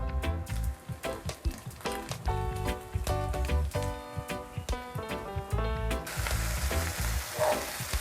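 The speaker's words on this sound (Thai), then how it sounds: "เราก็จะนำใบชะพูเนี่ยค่ะลงไปย่าง ใช้ไฟอ่อนเพราะว่าเดี๋ยวเราต้องให้หมูด้านในสุก ด้วยค่ะ" Pork wrapped in chaplu (wild betel) leaves grills over a low flame, a soft continuous sizzle running beneath louder melodic background music, with the frying hiss coming more to the fore near the end.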